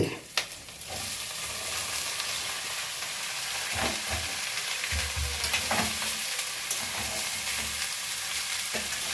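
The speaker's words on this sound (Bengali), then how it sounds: "এখানে বিট গাজর সব একসাথে একটু ভাজা ভাজা হবে" Beetroot, carrots and other vegetables frying in a pan with a steady, close sizzle, broken by a few sharp stirring scrapes and clatters.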